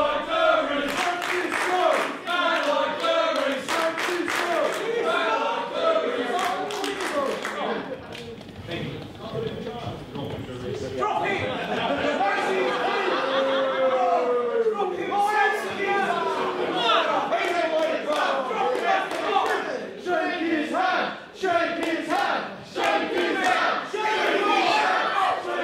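Wrestling crowd at a live match cheering for Man Like Dereiss, a loud, sustained roar of voices and shouts with a brief dip before swelling again, while a commentator talks over it.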